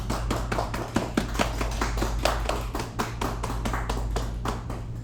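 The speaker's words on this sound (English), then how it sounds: "Your applause for Ibrahim." Scattered audience clapping greets a cosplay contestant at a fan event, individual claps distinct and fairly quick over a constant low electrical hum, with no one speaking.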